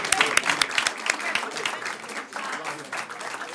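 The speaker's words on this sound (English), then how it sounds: "Give them a round of applause." Short burst of audience clapping at a school board business meeting, lively and close, with crowd noise mixed in and sharp individual claps at the start.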